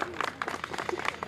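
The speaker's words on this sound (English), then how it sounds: "so just give a round of applause for Annie." Crowd applause at a playground ribbon-cutting ceremony in Mountain View, a short burst of scattered outdoor clapping close by with a few voices mixed in.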